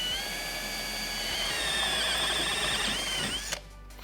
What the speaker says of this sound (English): So I need to go ahead and drill a hole in the dash here.